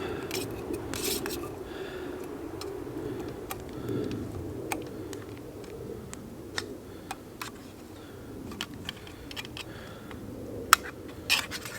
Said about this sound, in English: throw on the bouillon cube and mix it around. Break it up.